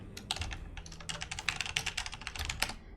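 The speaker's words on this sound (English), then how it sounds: "typing at the speed of light" Rapid, uneven bursts of keystrokes on a computer keyboard during a Hunt: Showdown community stream, close and crisp with no talking.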